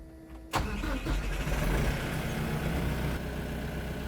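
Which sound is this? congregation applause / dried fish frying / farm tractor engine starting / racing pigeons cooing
farm tractor engine starting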